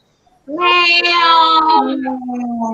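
A person's voice imitates a cat, giving one loud, drawn-out meow with a falling tail, close up and alone after a brief quiet start.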